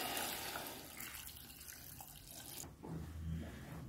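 Tap water pours in a steady rush over layered vegan burger ingredients and a black tea bag, close and continuous, then shifts to a lower, fuller gurgle near the end as the level rises.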